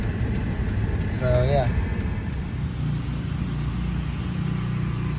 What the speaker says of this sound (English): And yeah, all that noise is just generators running.